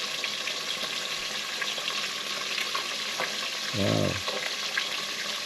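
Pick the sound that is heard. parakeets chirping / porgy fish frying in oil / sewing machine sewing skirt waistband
porgy fish frying in oil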